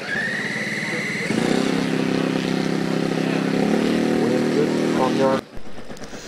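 A radio-controlled aerobatic model biplane takes off at the F3A world championships in 2005, its small engine whining loud and steady and then rising in pitch, under a French announcer's voice before a brief cutoff.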